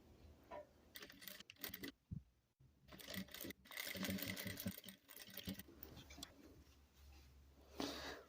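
A sewing machine runs a straight seam across a fabric coaster using a 0.75 stitch length, with backstitching at both ends; a steady, close mechanical whirring broken by brief pauses.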